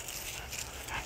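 A large Boerboel, Kangal and Dogo–Dane mix dog makes steady low growly vocal sounds close by, continuous through the short moment with no clear talk.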